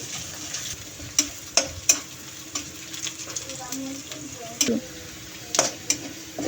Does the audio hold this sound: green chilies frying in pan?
yes